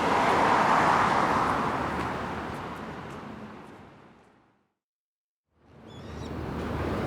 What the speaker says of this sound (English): with bridges comes traffic, and with traffic comes noise